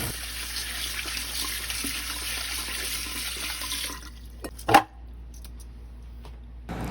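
Pork hock pieces rinsed under a running tap, a steady hiss of flowing water that stops partway, followed by a brief clatter and quiet kitchen handling.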